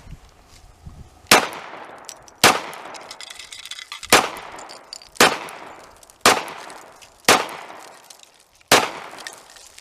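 Seven loud, close .45 pistol shots fired outdoors, each a sharp crack with a short ringing decay, spaced at roughly one-second intervals with quiet between.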